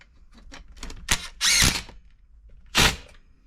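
Impact gun hammering out bolts on a Stihl MS362C chainsaw, with several short rattling bursts, two of them loud and close, separated by quieter clicks and gaps.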